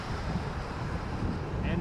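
Blustery wind roars and buffets the microphone in a continuous low rumble at Toronto Pearson Airport, with a voice faintly audible beneath it.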